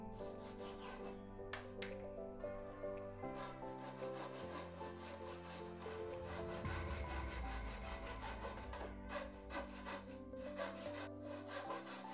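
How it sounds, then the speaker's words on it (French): Wooden rafters being notched by hand with a Japanese saw and a wood chisel: steady rasping, rubbing saw strokes in a continuous run, mixed with tonal background sound throughout, no talk. "Je fais ça à la scie japonaise et au ciseau à bois."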